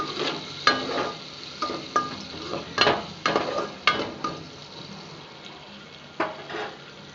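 Onion, green chillies and curry leaves are stirred in a hot pan while tamarind curry with okra is cooked, giving a soft sizzle broken by repeated scraping strokes of a spoon against the pan.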